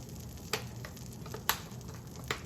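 Butter melting in a pan for fettuccine Alfredo, a soft low sizzle with three sharp pops spaced out over a couple of seconds.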